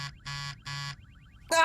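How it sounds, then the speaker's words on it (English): Cartoon buzzer blaring in three short, harsh, evenly spaced bursts on a starship bridge, with a separate bright electronic tone entering at the end. "enough with the buzzer"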